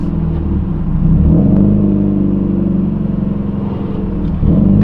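A car with a newly installed solid transmission mount pulls out of a driveway, its engine a steady low rumble with slight rises as it moves off, close and continuous throughout.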